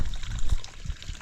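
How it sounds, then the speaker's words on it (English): Spring water pouring out through a collapsed old stone wall on a Portuguese homestead, a close, steady splashing trickle with a few louder gurgles, no talking. "can hear the water coming from the spring"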